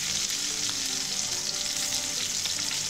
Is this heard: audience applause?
no